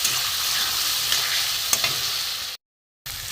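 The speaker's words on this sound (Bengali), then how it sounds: "একটু জল দিয়ে মশলাটা একটু আমি কষিয়ে নিচ্ছি" Spice paste with cumin and garam masala powder frying in oil with a little water in a pan for an egg and pointed gourd curry, a loud steady sizzle with a few stirring clinks, alone, then briefly cut to silence.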